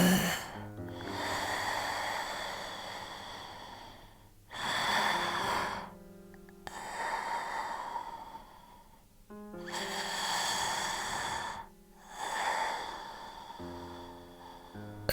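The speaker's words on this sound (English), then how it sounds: "A subtle, distant breathing could always be heard before he passed out" Slow, heavy breaths with snorting inhales and long exhales, repeating in a steady rhythm, soft and distant-sounding with no other sounds around.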